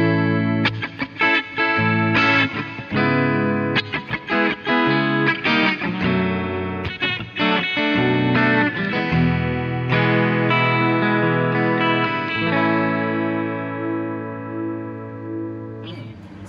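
A 2020 Squier Stratocaster HSS Affinity electric guitar plays through an overdrive effect on its humbucker. Thick, distorted chords and riffs ring out loudly and close, with a final chord left to sustain and fade.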